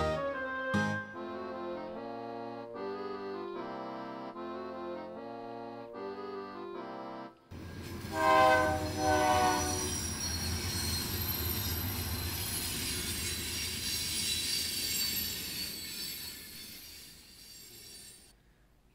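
A train sound effect in a stage play of Fiddler on the Roof follows a stretch of sustained pit music, with rumbling, squealing wheels and rolling clatter that hold steady for about ten seconds before cutting off.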